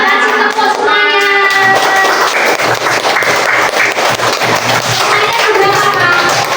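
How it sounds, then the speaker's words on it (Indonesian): Children in a classroom clapping their hands, a loud, dense burst of rhythmic clapping that carries on throughout, with a teacher and kids' voices mixed in. "Ayo kasih tepuk semuanya."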